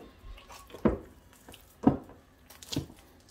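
Two tablespoons of water spooned onto bread dough for small cheese rolls, three soft separate splashes and drips spaced about a second apart, close and quiet.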